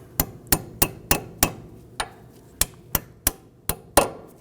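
Sharp metallic hammer taps, about a dozen, tapping a front CV axle into place on a 2008-2011 Ford Focus, struck one at a time at a steady, unhurried pace, close by with a quiet background between hits.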